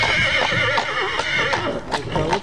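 A stallion in Bucovina, Romania, lets out a loud, close whinny with wavering pitch, and faint hoof sounds and voices talking underneath.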